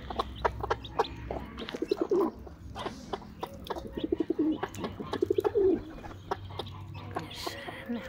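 Pigeons coo repeatedly in soft, throaty rolling calls, with sharp clucks and rustling nearby; a few faint voices sit in the background.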